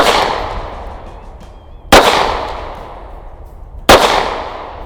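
Two sharp pistol shots about two seconds apart, each a loud, abrupt crack with a decaying echo over steady background noise, fired while demonstrating grip on a handgun.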